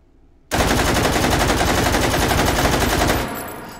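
A VZ58 rifle firing a continuous rapid burst in the VR game Hot Dogs, Horseshoes and Hand Grenades, loud and close, about two and a half seconds of dense automatic fire that stops abruptly and leaves a short fading tail.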